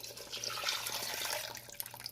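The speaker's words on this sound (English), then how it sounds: "Here's the fish broth, like I showed you earlier on. Yeah, see? I'm going to be pouring it right into this soup." Fish broth is poured into a simmering cassava leaf soup, a close, continuous splashing liquid stream that trickles off at the end.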